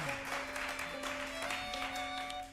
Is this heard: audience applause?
yes